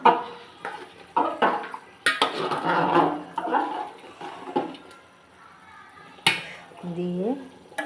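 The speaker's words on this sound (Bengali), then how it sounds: "জিরার ফাঁকিটা দিয়ে এখন নাড়াচাড়া দেব" A spoon stirs curry in a metal pot after cumin powder goes in, producing irregular scraping clanks and bursts of clatter, with a person speaking between the strokes.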